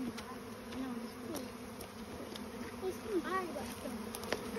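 A swarm of bees buzzes as it moves into a bait hive outdoors, a dense, faint droning hum with individual insects whining past close by.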